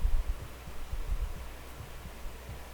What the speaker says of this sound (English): Now I'm hearing a very slight heartbeat.